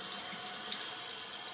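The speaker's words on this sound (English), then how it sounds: "I'm going to add my tepid water" Tepid tap water runs steadily from a faucet over nuts sitting in a strainer at a sink, a continuous soft hiss and splash heard close and alone.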